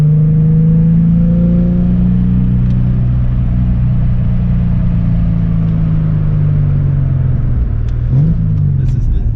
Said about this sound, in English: The blue car that's pulling out, that's food line.